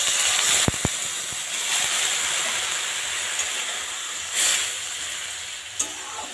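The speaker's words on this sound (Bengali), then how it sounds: "এবার দিন হচ্ছে অল্প পরিমাণ জল।" Hot pan of kochur loti with dried shrimp sizzling steadily as a small amount of water goes in, with a surge of hissing and a few clinks of utensils, close and alone.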